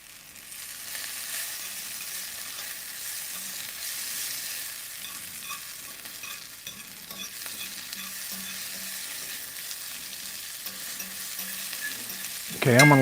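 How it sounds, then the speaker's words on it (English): Onions frying under a press weight on a hot griddle for a patty melt, giving a steady continuous sizzle with faint scraping and stirring throughout, then a sudden louder clatter at the very end. "I'm gonna let these onions go one more round under the weight"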